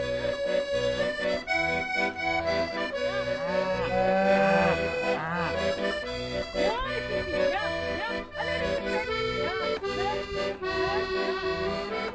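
A horned cow close to calving, with a well-prepared udder and raised tail, gives several drawn-out moos that rise and fall in pitch, loud and close, one after another over the whole stretch.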